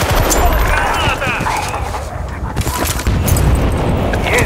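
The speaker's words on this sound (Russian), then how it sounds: "Граната!" A grenade explosion and gunfire in the Battlefield: Bad Company 2 video game, a loud, continuous burst of booming and crackling shots with voices talking through it.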